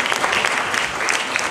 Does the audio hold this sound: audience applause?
yes